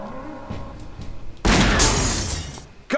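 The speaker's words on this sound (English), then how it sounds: "Come on, it stopped breaking glass." Glass shatters loudly in the video game Grim Fandango, a sudden dense crash that rings on and slowly fades over a couple of seconds, preceded by quieter game sounds and ending with a sharp knock.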